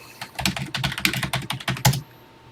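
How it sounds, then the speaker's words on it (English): Rapid keystrokes on a computer keyboard while a TI Basic program is entered on the Classic 99 emulator for the TI-99/4A, irregular close clicks and clacks for about two seconds, then quiet. "Okay, let's get busy typing"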